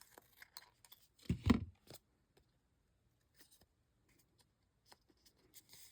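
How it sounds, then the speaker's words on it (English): Scissors snipping through card paper for a basket weave quilt card, one or two close, crisp cuts followed by faint rustling in a quiet room. "I'm going to take my scissors and trim this off right here at the top and the bottom."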